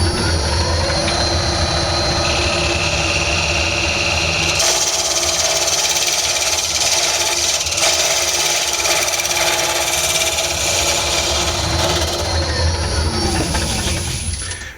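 A wooden cakestand spins up on a lathe, a loud, continuous whirring machine drone with a high whine that steps up partway through and holds steady for over ten seconds.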